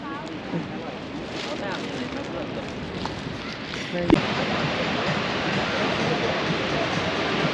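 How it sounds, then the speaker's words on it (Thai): Man-made waterfall in Kunming, a steady broad rush of falling water that runs throughout, with a brief sharp knock partway through and faint voices in the background. "น้ำตกสร้างค่ะ"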